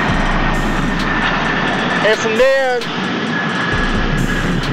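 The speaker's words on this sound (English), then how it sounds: "If y'all hear that, that's the plane in the background." A fixed-wing airplane passes overhead in the distance, a steady low engine drone that runs under close talking throughout.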